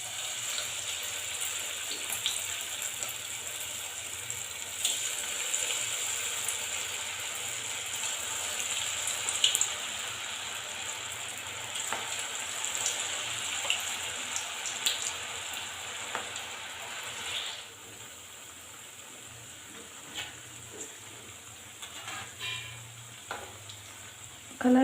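Cabbage gobi manchurian balls frying in hot oil, a steady close sizzle and bubbling with occasional light stirring clinks, fading to quieter frying toward the end, no talk.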